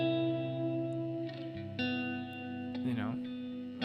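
An electric guitar rings out with a heavy reverb tail, a few sustained chords and notes blooming and lingering, played alone.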